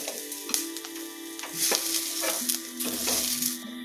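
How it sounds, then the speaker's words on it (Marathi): Onion, garlic and green chili sauté in a hot pan with a steady sizzle, broken by repeated scrapes and knocks of a spoon stirring against the metal. The sound is close and continuous. "तर आता इथे कांदा लसूण आणि मिरची हे सुद्धा छान परतून झालेली आहे"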